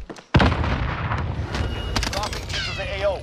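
Striker 45 gunfire in Warzone gameplay, a sharp loud shot followed by a burst of rapid, close shots, with players talking over the action.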